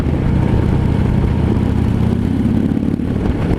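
A 2015 Harley-Davidson FLHTP motorcycle with stock pipes rumbles steadily at close range, a low continuous engine drone holding without breaks or rises.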